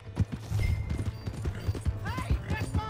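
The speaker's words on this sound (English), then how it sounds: "Hey, that's my horse." Horse hooves clip-clop in a quick, irregular rhythm in the Red Dead Redemption 2 video game, mixed with a low engine-like hum and brief whinny-like tones, while voices talk over it.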